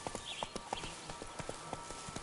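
Roach, the horse from The Witcher 3, clip-clops along at a walking pace, soft distinct hoofbeats in an even rhythm over quiet ambience.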